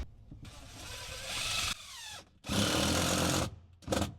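A power drill drives screws into a pontoon boat corner seat in three close bursts, whirring loudly then stopping, the last one short as a screw is snugged down.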